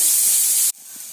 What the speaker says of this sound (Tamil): அரிஞ்சு வச்ச ரெண்டு வெங்காயத்தையும் சேர்த்துடுங்க சேர்த்துட்டு நல்லா பொன்னிறம் வர மாதிரி நல்லா ஃப்ரை பண்ணலாம்